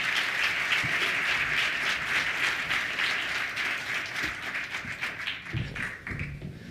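An audience claps steadily to welcome someone speaker to the stage at a Securities Industry Institute event, a dense, even wash of applause that holds for several seconds before slowly thinning out.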